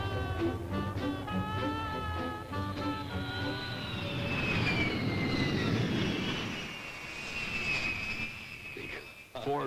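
Air Force One, the presidential jet airplane flown for President Ford, roars steadily as its jet engines build a rising high whine, loud and continuous for nearly ten seconds, with muffled voices early on.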